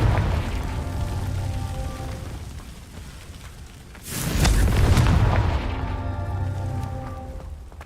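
A Confringo blasting spell in Hogwarts Legacy goes off with a single loud, heavy boom that swells and rumbles for about a second, set between quieter stretches of game music and ambience with no talk.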